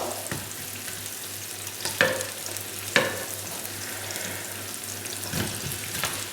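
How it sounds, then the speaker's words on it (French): Onions fry in a pan, a continuous close hiss and crackle of sizzling oil, with a few light clicks of stirring breaking through the steady sizzle. "Les oignons rissolent"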